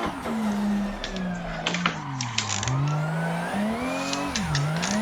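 A Toyota Supra engine in a track racing video game drones steadily, its pitch rising and dipping through gear changes and corners, loud and continuous with no voices.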